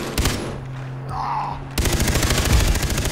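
Gunfire in the co-op shooter Far Cry 3: a loud single shot, then a rapid burst of automatic fire rattling close by, with a brief shout in between.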